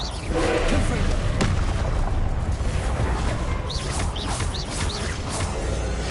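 Repeated Confringo blasting-spell explosions from the Hogwarts Legacy video game, booming and crackling in a dense, continuous wash of loud game noise with no gaps.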